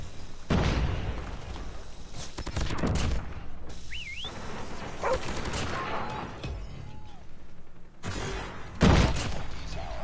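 A sentry gun fires in Call of Duty Mobile amid gunfight noise, with repeated bursts of automatic gunfire and booming impacts coming in waves and a few distinct louder pops.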